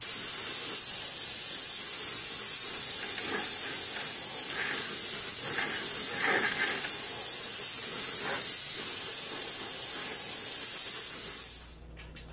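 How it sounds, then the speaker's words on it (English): An airbrush sprays light gray paint across a model of the battleship USS Arizona, giving a steady, close airy hiss that runs unbroken for most of the time before cutting off near the end. "I'm going to use my airbrush and tint the entire model with a coat of light"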